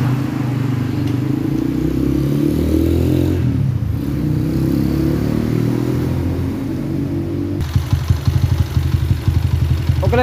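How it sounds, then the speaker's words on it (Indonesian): A motorcycle engine with a rattling fault at the clutch block joint runs steadily and loudly, then a sharp rhythmic clatter of ticks sets in toward the end. "untuk bagian motor derik memang positif dari bagian sambungan blok kopla"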